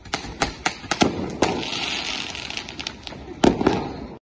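Diwali fireworks burst in a rapid, irregular series of sharp cracks and pops, some near and loud, with crackling and faint background noise between the shots.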